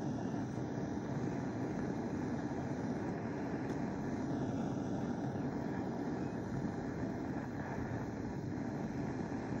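Torch steadily heating a thick metal solder bar for repairing a thin sheet-metal tank, a continuous low roaring hiss of burning gas, close and even throughout with no talk.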